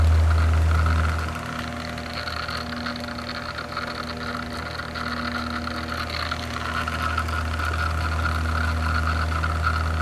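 A vintage Vornado 10D1 fan with worn bearings runs steadily, a constant motor hum with a faint whirring rattle, loud and close throughout with no voices.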